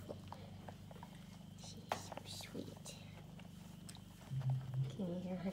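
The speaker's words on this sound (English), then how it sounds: "Can you hear her chewing?" Soft, steady chewing by a rabbit eating, a quick continuous crunching close by, with a few brief louder murmurs near the end.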